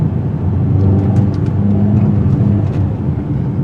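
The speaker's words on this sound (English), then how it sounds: "This nimble little hot rod has fantastic cornering ability, as we'll demonstrate in the turning circle in the Sport Plus mode" A 2021 Mercedes GLA45 AMG engine in Sport Plus mode pulls hard in a steady, loud low drone heard from close by, with road and tire rumble underneath and no talking.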